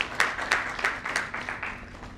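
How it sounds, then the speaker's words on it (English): An audience at an Indo-British business meet gives a brief round of applause, scattered claps rising and thinning out, moderately loud with a roomy feel and no talk over it. "so I think we should give her a round of applause."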